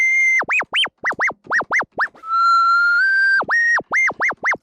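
Whistle samples played on a Portatron tape synthesizer give a loud, close run of repeated swooping whistle notes in quick rhythm, broken by one longer held tone that steps up in pitch before the swoops resume.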